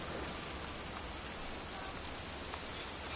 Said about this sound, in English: standing in a cemetery in pouring rain